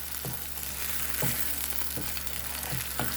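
Minced beef sautéing in a pan, a steady broadband sizzle with a low hum underneath and about five soft, evenly spaced scrapes of a spatula stirring the meat.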